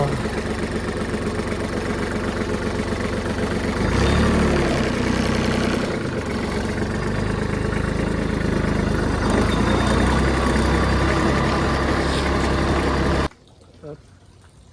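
A tractor engine runs at a steady idle on a farm, a loud continuous low rumble that holds for about thirteen seconds before cutting off abruptly, with voices talking over it.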